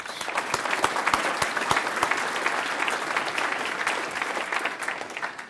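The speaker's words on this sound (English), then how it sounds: "Let's give a big round of applause to our sponsors." Banquet audience in a ballroom at an agricultural chamber of commerce award event applauding, a sustained, even wash of many hands clapping with a few crisp nearby claps, moderately distant.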